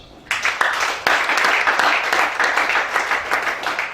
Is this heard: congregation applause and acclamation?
yes